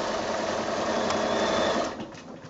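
A sewing machine runs steadily at close range while making a short back stitch to secure the end of a quilt's binding, with its motor whirring continuously before easing slightly near the end.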